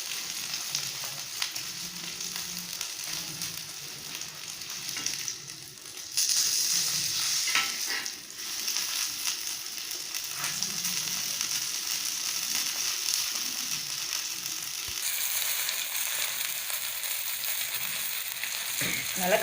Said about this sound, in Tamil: அதே மாதிரி திருப்பி போட்டு நல்லா பொரிச்சு எடுத்துக்கோங்க.